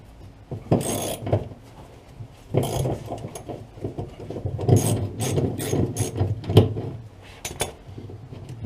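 A socket wrench ratchets a bolt loose during removal of a Rover P6 V8 engine, giving loud, close bursts of clicking in uneven spurts with short pauses between them.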